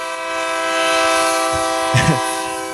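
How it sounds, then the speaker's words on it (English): A train sound effect played on a live radio show, a sustained multi-tone horn blast that swells and holds steadily, with a brief voice cutting in near the end. "Here comes the train."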